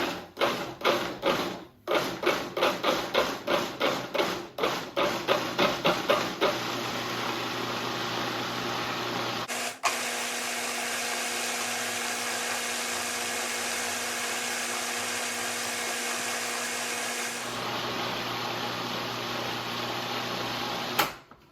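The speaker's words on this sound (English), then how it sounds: "I'm gonna pulse it first, and after pulsing it, then I'm gonna blend it for a while." A kitchen blender working through vegan faux gras ingredients: several short, sharp pulses at the start, then a long steady whirring blend that briefly cuts out and resumes at a slightly different pitch.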